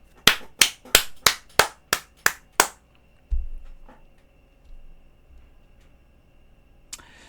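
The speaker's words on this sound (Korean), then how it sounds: "박수!" At a sales training seminar, eight sharp, evenly spaced claps ring out in unison, loud and crisp, then give way to near silence with a few faint knocks and shuffles.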